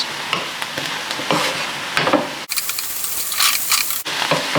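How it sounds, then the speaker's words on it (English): Shrimp and spinach seasoned with salt are stirred in a hot pan, a steady loud sizzle with scraping stirs and a couple of abrupt clatters, close up and without talk. "Give it a good mix"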